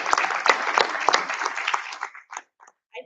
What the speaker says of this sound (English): So if we could give him a round of applause.